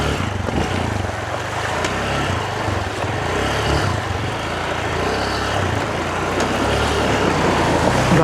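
Vehicle engine churning through deep water while fording a river on a rural road project between Pangasinan and Zambales, a steady loud low rumble and splashing that continues without a break.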